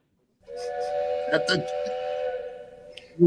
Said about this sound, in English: you hear that little train?